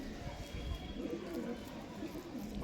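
A racing pigeon coos softly and faintly at close range while being handled for display at a pigeon club, against steady low background noise.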